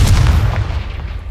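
A Confringo blasting spell goes off in Hogwarts Legacy, one loud, close, deep boom that rumbles heavily and fades out over about a second.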